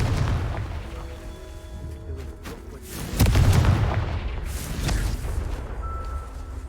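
Confringo fire spells from the game Hogwarts Legacy go off as a series of booming explosions. Deep blasts land over about a second near the middle, then trail off into rumbling decay over a faint musical backdrop.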